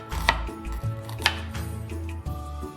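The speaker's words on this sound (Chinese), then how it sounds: "再随意切几刀，将洋葱切碎一些。" A knife minces a halved and sliced red onion on a cutting board, with a steady run of close, crisp chops thudding against the board and no voices.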